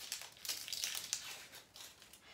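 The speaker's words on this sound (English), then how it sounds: "And take the peel off." Dry onion skin being peeled off by hand in a kitchen, heard as close, crisp crinkling and tearing crackles in uneven bursts with no talking.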